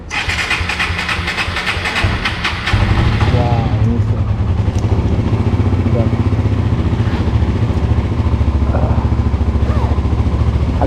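A Suzuki GSX-R motorcycle engine cranks and catches at about the third second, then settles into a loud, steady, rumbling run close by, with voices faintly audible around it.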